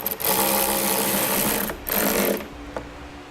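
A power driver reinstalls screws on a 2018 vehicle during a trailer hitch install, giving two loud, close whirring runs of about a second and a half each, separated by a brief pause, with no talk.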